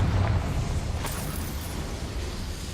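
A Confringo blasting spell goes off in the Hogwarts Legacy video game, a deep rumbling boom that sets in at once and slowly tails off into a low roar, with a few faint crackles over the top.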